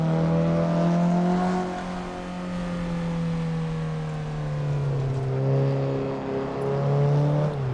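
A 130 horsepower Mazda Miata engine droning during a drift run in Tokyo Xtreme Racer, a steady buzzing note held near constant that sags briefly and then climbs again as the revs shift.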